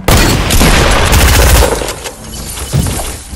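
Video game gunfire, a loud dense burst of rapid shots for about a second and a half, then scattered fainter bangs as it tails off, close and harsh.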